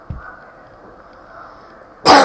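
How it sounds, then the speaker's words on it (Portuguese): One sharp cough bursts out loudly at the end, after a brief low thump near the start and a quiet stretch of faint background hum. "Eu só tossindo um pouco"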